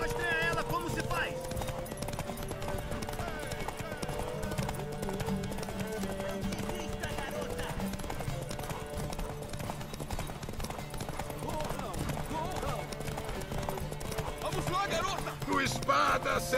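Horse hooves clip-clop steadily through a horse race in The Witcher 3, running continuously beneath game music and spoken dialogue.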